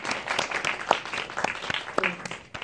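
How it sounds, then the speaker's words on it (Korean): Audience applause for an actor standing to greet the room, a moderate patter of clapping with distinct individual claps scattered through it. "네, 큰 박수 부탁드립니다."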